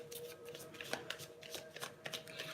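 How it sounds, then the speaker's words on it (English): A standard Rider-Waite tarot deck is shuffled by hand, giving quick bursts of crisp card riffles and soft flutters, close and fairly quiet, with no talking. "Let's go ahead and get this shuffling"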